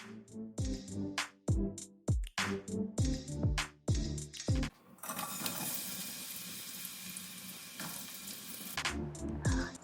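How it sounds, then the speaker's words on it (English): Peppercorns and cloves hit hot canola oil in a pan: a run of sharp crackling pops and spits gives way to a dense, steady, close sizzle that keeps going to the end. "we are starting with our aromatics, which is our peppercorns and our cloves, into some oil. I'm using canola oil as usual and just letting it heat up"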